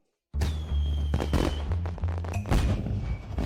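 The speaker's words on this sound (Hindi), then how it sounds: "पटाखे छोड़ रहे हैं।" A rapid burst of firecrackers crackles and pops loudly after a moment of silence, with a faint whistling tone running through the bangs.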